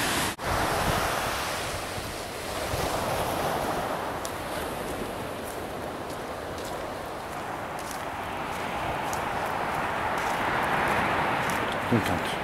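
Steady ocean surf and gusting wind on an open beach at low tide next to a motorhome area, a continuous broadband wash with buffeting wind noise on the microphone throughout and no talk.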